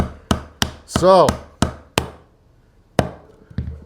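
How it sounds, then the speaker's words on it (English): Brad nails are hammered into wooden back ribs, sharp close knocks in an irregular rhythm, about seven strikes with a brief ringing tone among them and a short spoken word near the start. "if you do it right, you should have to hammer it in a little bit"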